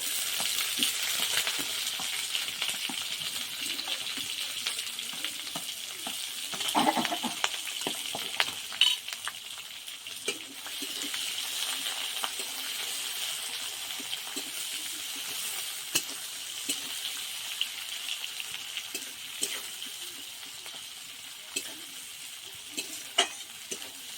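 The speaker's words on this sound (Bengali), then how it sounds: "শুকনো লঙ্কা দুটো কেটে দিয়ে দেবো। কুচিয়ে রাখা পেঁয়াজটা দিয়ে দেবো।" Dried red chillies and chopped onion fry in hot oil in a pan, giving a steady bright sizzle with occasional stirring clatter and spatters, close and continuous with no talking.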